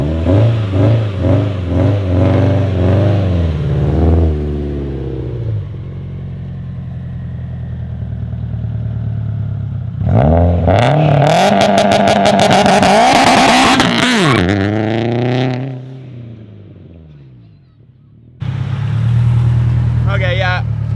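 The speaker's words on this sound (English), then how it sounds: "I'm revving it all the way out in 1st, grab 2nd, seems like she's gonna go, and then it just bogs." A Subaru STI launches and revs all the way out in first gear, with rising and falling engine sweeps, a harsh high-rev burst, then a bog and a quieter idle. It is loud and close, and people talk over parts of it.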